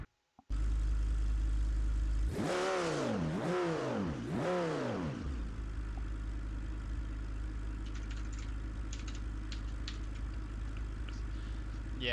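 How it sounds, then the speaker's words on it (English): A naturally aspirated V10 car engine in BeamNG.Drive revs loudly three times in quick rising-and-falling sweeps, then settles into a steady, droning idle that carries on alone. "Naturally aspirated V10."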